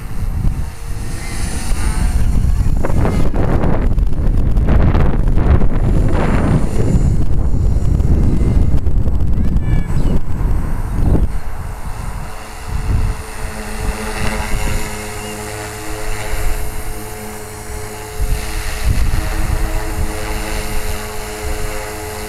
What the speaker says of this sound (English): Hopefully it'll come out on the camera just how smooth the helicopter is, but it's really quiet.